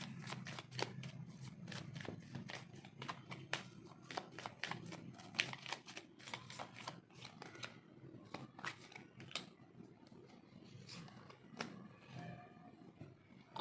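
Tarot cards shuffled by hand during a reading, a fast run of crisp riffling flicks and soft slaps repeating steadily and close, with no voices.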